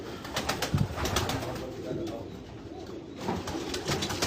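Pigeons at a rooftop breeding setup coo softly amid a busy outdoor background of chatter and rustling, with a few brief louder flutters near the start.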